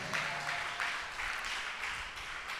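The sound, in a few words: audience applauding loudly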